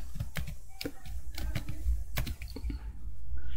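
Rapid keystrokes on a computer keyboard while entering a Linux command, a dense run of sharp clicks with a few heavier thumps, steady and close with no voices.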